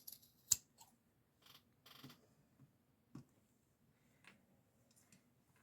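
Scissors trimming excess material from a handmade junk journal hat, a few sharp, close snips and small clicks spaced apart, quiet between cuts and without talk.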